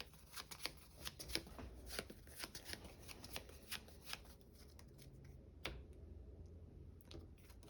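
Playing cards being shuffled by hand, a run of crisp riffling and snapping bursts in an uneven rhythm, close and quiet, with a pause near the end before a few more cards are handled.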